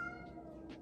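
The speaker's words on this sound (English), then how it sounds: "That's my cat." A cat gives a single short, faint meow, quiet and close, over a low steady background hum.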